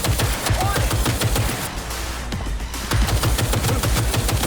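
Turret gunfire in Cyberpunk 2077, with rapid, continuous automatic bursts that rattle loud and dense. A sharp booming thud punctuates the sustained fusillade.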